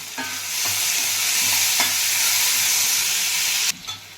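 Chettinad chicken masala with curry leaves and salt fries in a pan, giving a steady, close sizzle broken by several scraping stirs, with no talking.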